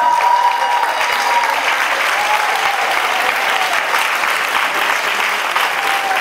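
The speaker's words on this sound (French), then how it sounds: "Je les prends toujours, ces mains d'applaudissements-là" Sustained audience applause at a talk by a criminologist, dense and steady throughout at close range, with a faint tone sounding over it early on.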